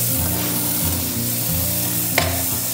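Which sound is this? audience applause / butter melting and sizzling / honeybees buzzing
butter melting and sizzling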